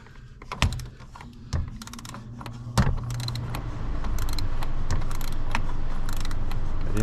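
Socket wrench ratcheting and tightening a crankshaft bolt on a Dodge 3.6L engine, sharp metallic clicks and clanks at irregular intervals over a low, rising background hum.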